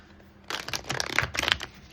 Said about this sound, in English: I'm going to give the deck a little shuffle here.